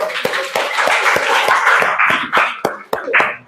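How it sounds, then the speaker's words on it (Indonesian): Students in an Indonesian junior high classroom clap together, with loud, sharp claps in a loose rhythm that grow more scattered toward the end. Chatter mixes in with the clapping. "Oke, tepuk tangan dong buat semuanya."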